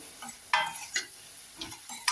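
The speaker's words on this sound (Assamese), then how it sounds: "এয়া চাওক মই ভাজি লৈছোঁ।" Mutton with homemade spices fries in a pan, quiet sizzling under a handful of light stirring taps and scrapes, close by and without voices.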